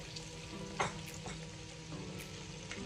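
Breaded salmon fries in a pan with a steady, faint crackling sizzle, dotted with occasional louder pops and the light clatter of stirring.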